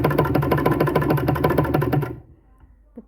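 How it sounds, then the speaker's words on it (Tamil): A sewing machine runs close and loud in a steady rapid stitching rhythm while hemming fabric in a beginner tailoring lesson, then stops abruptly, leaving near silence with a few faint clicks. "தையல் வந்து போட்டுட்டேன்."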